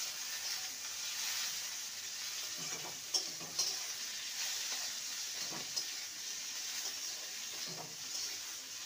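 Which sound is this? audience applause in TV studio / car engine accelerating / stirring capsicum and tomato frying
stirring capsicum and tomato frying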